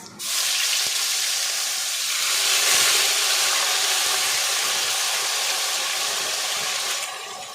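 Six large onions dropped into hot oil tempered with whole cumin, producing a loud, steady hiss and sizzle that starts abruptly and holds for several seconds before easing slightly.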